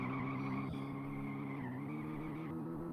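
Steady mechanical engine drone with a sustained tire squeal running throughout as a car skids through corners in the game My Summer Car, with no talking.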